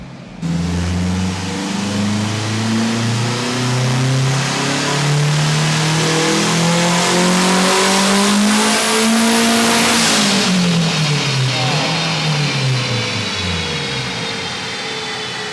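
A turbocharged 8th-generation Honda Civic on a dyno makes a loud, rising engine rev through a full pull. The pitch climbs steadily for about ten seconds, then drops and winds down, with no talk over it.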